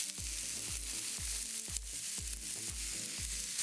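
Frozen spinach hits a hot frying pan with a steady sizzle and crackle, punctuated by a regular series of soft low thumps, quiet and close with no voices.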